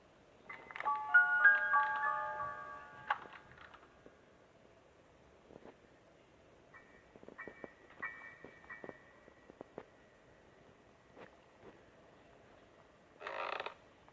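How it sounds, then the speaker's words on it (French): Creaking in a video game: a few sharp creaks and mechanical clicks come and go sparsely over near-silence, with a short noisy burst near the end. "Oh non, ça grince."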